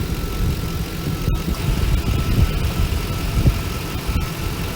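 A Chevrolet Suburban engine idles with its air conditioning compressor running during a recharge, a steady close rumble with a faint click or two.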